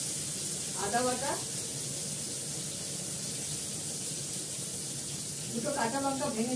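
Ginger paste frying in a pan of oil with tengra fish gives a steady, low sizzling hiss throughout, and a voice talks briefly near the start and again at the end.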